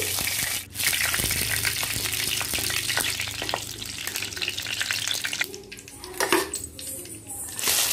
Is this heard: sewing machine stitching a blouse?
no